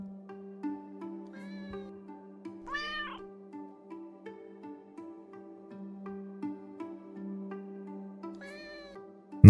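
Short cartoonish cat meows, about three of them, ring out over a calm, sustained musical background in the hidden-object game Hidden Cats, each meow brief and fairly clear.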